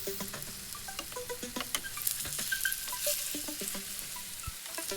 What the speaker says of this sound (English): oil is already heated before you put the cassava ball in